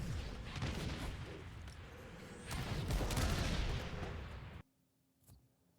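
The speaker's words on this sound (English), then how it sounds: "The AR, it doesn't even sound like a fucking AR, it sounds like a freaking SMG" Sustained assault rifle fire in Halo Campaign Evolved, a dense rapid rattle of shots that runs for several seconds before cutting off abruptly into near silence.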